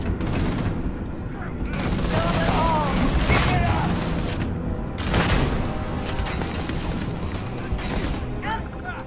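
Modded shotgun firing explosive rounds in Starfield, a rapid string of heavy blasts and booms with loud bursts recurring through the stretch, game effects dense and close.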